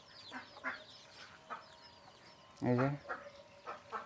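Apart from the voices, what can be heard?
chickens clucking at village coop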